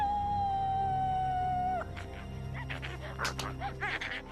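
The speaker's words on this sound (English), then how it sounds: "Howl at the moon." A long, steady howl holds one pitch, then breaks off, followed by a burst of yelps and barking-like cries, loud and close.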